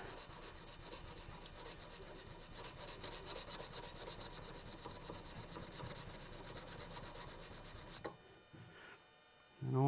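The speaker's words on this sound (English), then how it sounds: "with my hard back sanding block, just start going at it" Hard-backed sanding block scrubbed by hand along the steel of a Damascus integral chef's knife, a steady rapid back-and-forth rasp that stops abruptly near the end, followed by a few quieter scrapes.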